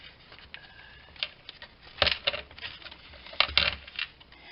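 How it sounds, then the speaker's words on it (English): Small differential gears and pins for a Teton are emptied onto a cover, giving scattered metallic clinks and rattles that build into two bright clattering bursts, then settle into a few lone ticks. "I'm going to empty my parts out onto my cover here so that I don't lose them."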